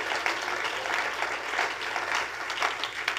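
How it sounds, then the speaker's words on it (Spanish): A church congregation applauds during a Spanish-language service, a dense, even wash of clapping heard from a distance, holding steady for about three seconds. "Denle un aplauso de veras al Señor"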